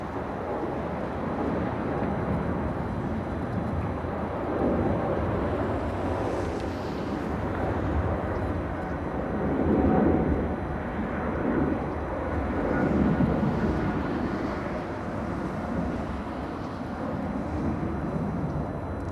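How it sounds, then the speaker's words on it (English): A large Boeing 777 airliner landing on the south side at LAX, a broad steady jet roar with wind buffeting heard from a distance, swelling slightly as it passes. "Big 777 landing in the south side"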